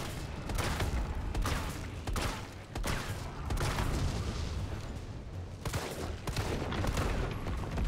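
Rapid, dense gunfire from Resident Evil 3 playing as Carlos, with repeated sharp shots and bursts close and loud across the whole stretch, layered over a constant low rumble and no clear talk.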